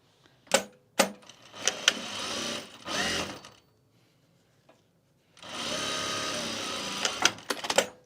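A sewing machine stitches bag pieces together in two bursts, a steady whirring run of a few seconds each, separated by a near-silent pause and a few clicks and knocks at the start.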